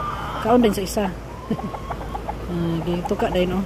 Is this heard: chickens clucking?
yes